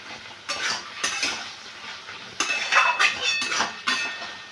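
Potato and pumpkin curry is mixed in a pan with a metal spoon: a few scraping, clinking strokes with short pauses between them, close and fairly loud, with no talking.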